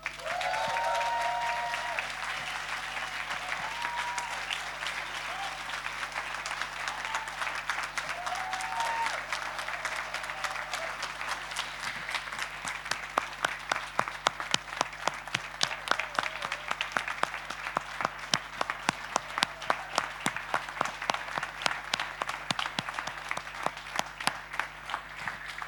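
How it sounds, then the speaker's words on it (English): A tech summit audience applauds at length, first a soft spread of clapping that builds into loud, dense, sharp claps filling the room. "A special round of applause."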